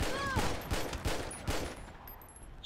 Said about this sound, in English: Shots fired, yep.